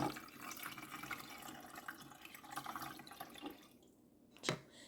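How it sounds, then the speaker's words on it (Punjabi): Water poured into a filter jug, a steady splashing, trickling flow running for several seconds before fading out, with a small knock or clink near the end. "ਅਸੀਂ ਇਹਦੇ ਵਿੱਚ ਵੀ ਪਾਣੀ ਪਾ ਦਿੱਤਾ ਆਪਣੇ ਫਿਲਟਰ ਵਿੱਚ ਫਿਲਟਰ ਜੱਗ ਵਿੱਚ ਥੋੜ੍ਹਾ ਜਿਹਾ ਹੋਰ ਮੈਂ ਪਾਣੀ ਪਾ ਦੇਵਾਂ"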